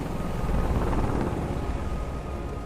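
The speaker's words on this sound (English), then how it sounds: "Oh, that's the press helicopters." Press helicopters in a video game hover overhead with a steady, loud rotor drone and rumbling wash that fills the scene, holding constant throughout with no voices.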